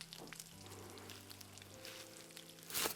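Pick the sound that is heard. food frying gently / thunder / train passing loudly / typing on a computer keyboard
food frying gently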